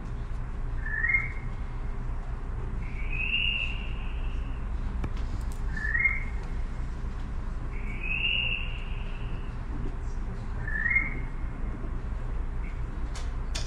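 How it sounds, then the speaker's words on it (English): Eerie, sliding whistles repeat in pairs, a short rising note then a longer drawn-out tone, three times over a steady low rumble. "There's these weird whistling sounds they would get, which just sound like whistling."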